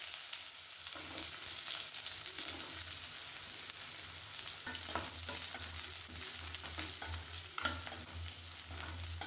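Onions, dried red chilies, crushed garlic cloves and curry leaves fry in hot oil for okra fry, giving a steady close sizzle with occasional stirring scrapes and no talk.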